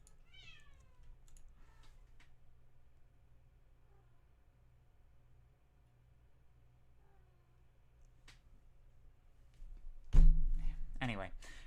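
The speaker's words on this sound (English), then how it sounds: "can you guys hear that cat?" A cat meows faintly a few times at the start, close by in a quiet indoor room. Soft keyboard taps follow, and a loud thump comes near the end.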